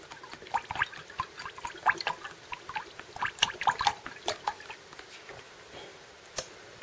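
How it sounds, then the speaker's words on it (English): Double boiled linseed oil pours into turpentine with an uneven run of soft close glugs, splashes and drips that thin out toward the end. "I'll put in hopefully the same amount of this double boiled linseed oil"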